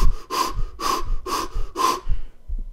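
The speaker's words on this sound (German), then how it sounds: "wo man wirklich bewusst tiefer und schneller atmet als normal" Deep, fast holotropic breathing done deliberately, each inhale and exhale loud and close with a gasping, airy rush, repeating in a steady rhythm of about two breaths per second, alone with no talk.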